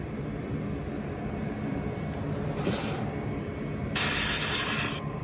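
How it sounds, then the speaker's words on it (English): Spray cleaner misted onto a lens and screen during assembly of a ZOIA Euroburo synth module, soft hissing bursts near the mic, with a louder, longer spray near the end over a steady background hum. "And I'll spray the lens and the screen and"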